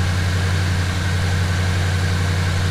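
A 1977 Chevy C10 engine idles with freshly set valve lash and new rocker arms and pushrods. It holds a smooth, steady, loud low hum with no variation and no talk.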